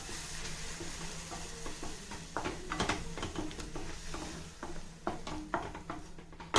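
Chili powder is stirred into a sizzling parval gravy in a pan, with a steady frying hiss under repeated close scraping and knocking strokes of a spoon against the pan.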